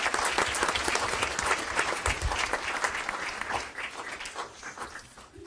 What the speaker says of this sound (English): please congratulate them and clap for them